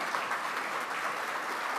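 Steady applause from a room of Rotary club members welcoming visitors at a meeting, a dense continuous clapping lasting under two seconds.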